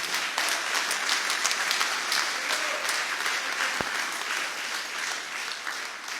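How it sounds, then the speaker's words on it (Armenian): A crowd at a political gathering in Vagharshapat breaks into loud, sustained applause, a dense wash of clapping that holds steady and eases slightly toward the end. "դրա համար առաջարկում եմ բարձր ծափահարություններով վաղաշաբաթցիներին"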